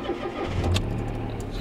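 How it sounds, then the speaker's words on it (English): A car engine cranks and catches on a rainy day, a low rumble rising into a steady idle close by, with faint rain-like hiss around it. "Hold on, let's start this car."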